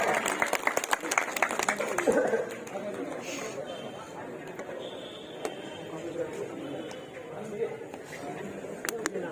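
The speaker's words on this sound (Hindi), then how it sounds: "तालियों की गड़गड़ाहट से ताली बाजनी चाहिए" A crowd at a Congress political rally applauds a welcome. Sharp, loud clapping bursts at first and then thins into scattered claps under crowd chatter and a speaker's voice.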